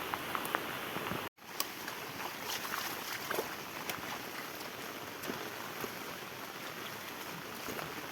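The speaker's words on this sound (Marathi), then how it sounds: "पाऊस पण खूप आहे" Heavy monsoon rain pours steadily onto a farm field, a dense, even hiss close to the microphone, interrupted once by a brief dropout early on.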